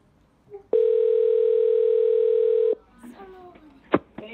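A steady electronic phone-call ringing tone holds for about two seconds, then cuts off and is followed by faint voices and small clicks.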